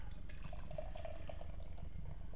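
Treehouse Brewing oak-conditioned Czech-style pilsner being poured from a can, a continuous close gurgling and splashing of liquid filling a glass over a low background hum.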